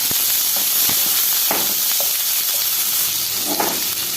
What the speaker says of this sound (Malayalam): ചൂടായി വരുമ്പോൾ അരിഞ്ഞു വെച്ചിരിക്കുന്ന സവാള